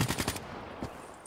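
Rapid video game gunfire comes in a quick automatic burst of close, punchy shots while a SCUF controller is being tested, followed by one more single report.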